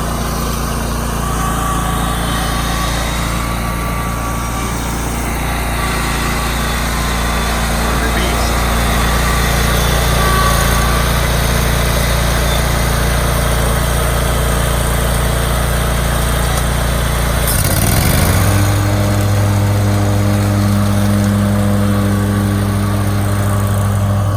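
A petrol lawn mower drones steadily while mowing a flat residential yard, its engine loud and close throughout, with a sudden shift in pitch near the end as the load changes.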